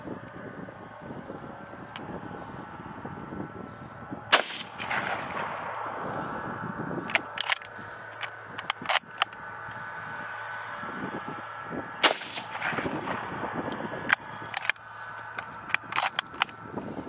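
Rifle shots from a Lee Enfield No.1 Mark 3 .303 fired outdoors at a bottle target: two sharp, loud cracks several seconds apart, with wind, rustling and faint clicks of handling between them.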